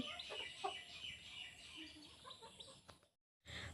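Backyard village chickens cluck faintly at a distance in a quiet setting, with scattered soft calls and a brief moment of silence near the end.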